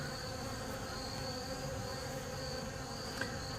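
Honey bees buzz around an opened hive during winter preparation, a steady dense drone close by that stays even throughout, with no talk.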